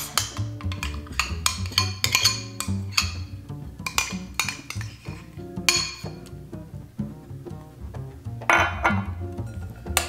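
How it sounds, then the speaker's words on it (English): A utensil clinks and scrapes against a bowl while chicken salad with mayonnaise, Dijon mustard and lemon juice is stirred, giving irregular light taps and knocks up close over ten seconds. "Give it a stir."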